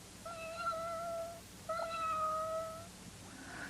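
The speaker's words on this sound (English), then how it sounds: "He tried to make friends with Hairy Monster's kitten." Two drawn-out kitten meows belonging to the Hairy Monster on Sesame Street, each about a second and a half long and clear against a quiet background, with a short pause between them.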